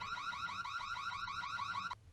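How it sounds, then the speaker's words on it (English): A home security alarm sounds loud and steady, a rapidly warbling electronic siren repeating without pause for about two seconds before it abruptly cuts off. "my parents had turned the house alarm on"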